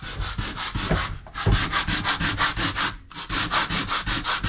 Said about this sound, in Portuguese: tá lixando